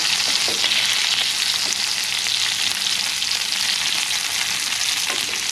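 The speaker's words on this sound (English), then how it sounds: "That's a perfect sear on that side." A steak sears loudly in a hot pan alongside a meal of steak and potatoes, a dense, constant hiss of close frying with faint crackles and no voices.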